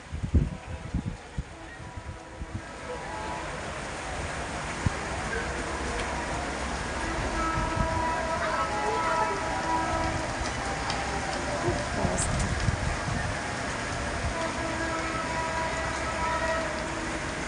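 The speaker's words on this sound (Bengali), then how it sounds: "বাইরে অনেক বৃষ্টি অনেক বৃষ্টি একদম ঠান্ডা ঠান্ডা দিন" Heavy rain pours outside on a cold day, making a steady, even hiss that fills the whole stretch, with a few louder knocks near the start.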